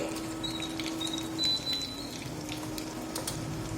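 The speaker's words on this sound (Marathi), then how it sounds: "तेल टाकून तेल गरम झाले. आता थोडं जिरं टाकते" Cumin seeds crackle in hot oil for a spicy home-style chicken curry, a steady soft hiss and faint popping that stays even throughout, with no one talking.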